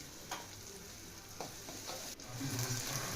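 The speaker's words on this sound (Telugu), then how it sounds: "అల్లం వెల్లుల్లి పేస్ట్ పచ్చివాసన పోయేదాకా మనం ఫ్రై చేసుకోవాలి." Freshly ground ginger-garlic paste fries in hot oil with a steady sizzle and a few scraping stirs, no talk, for a fish curry.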